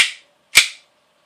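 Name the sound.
airsoft pistol slide action being worked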